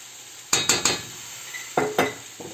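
A spoon stirring sauce in a pot, several distinct scraping clinks against the pot in two short clusters, close and fairly quiet.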